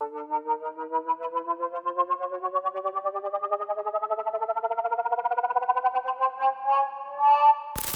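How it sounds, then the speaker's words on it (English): A synthesized pitch riser transition effect climbs steadily upward over about seven seconds, pulsing rhythmically as it rises. It ends with a short burst of noise, and no one speaks over it. "And lastly, we're going to look at this pitch riser."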